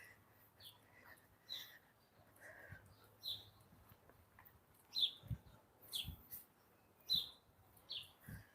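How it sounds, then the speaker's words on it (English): Small birds chirp and tweet on the Lakeshore Campus in short, repeated calls, some closer and some farther off, over a quiet outdoor background. "Oh, listen to the birds."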